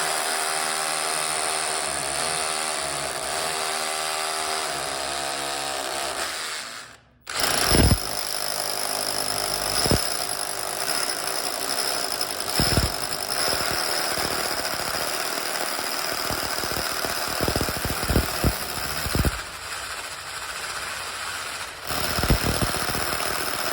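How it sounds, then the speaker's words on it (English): Makita DHR243 cordless SDS hammer drill hammering into a wall, a loud, steady rapid pounding that runs almost continuously, with one brief pause and small surges, close up with no talking. "You'll now see a video of the hammer action at work with two sizes of drills."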